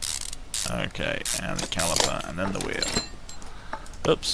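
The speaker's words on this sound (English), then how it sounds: "Trying to put on the bolts for the wheel." Wheel bolts being fitted in the Car Mechanic Simulator 2015 video game, a run of metallic ratcheting, clicking mechanism sounds heard under a speaking voice.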